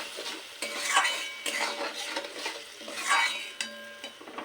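Masala frying in oil for a potato and katla fish curry, a close spoon scraping and clinking around the pan in repeated sweeping strokes over a light sizzle, without speech.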